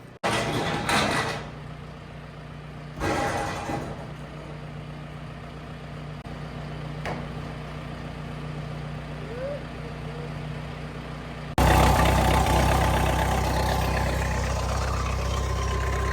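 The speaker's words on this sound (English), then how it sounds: "this tractor to get the feeders out" A farm tractor engine runs with a steady low idle while barns are cleaned out, growing noticeably louder and closer partway through.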